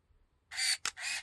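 Samsung AF Slim 2 film camera firing in self-timer mode: two close, bright whirring mechanical bursts split by a sharp click, with nothing else heard around them.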